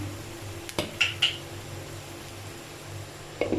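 A lid settles onto a cooking pan of frying tomatoes with a few light metallic clinks and taps, quiet and close over a faint background hum, followed by another small clink near the end.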